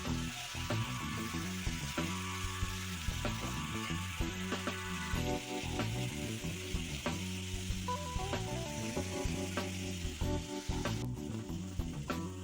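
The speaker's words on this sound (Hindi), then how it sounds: "फ्लेम मैंने हाई रखी हुई है। अब ये इसको तकरीबन 1 से 2 मिनट लगेंगे फ्राई करने के लिए" Masala frying over a high flame for an egg and potato curry, sizzling steadily and loudly throughout with occasional scraping stirs and clinks near the pan.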